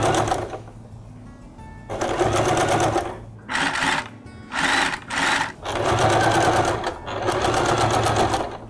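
Stitching bias tape along a belt edge, a sewing machine whirs in several close runs, two longer passages bracketing a cluster of short stop-start bursts, loud and near with no talk.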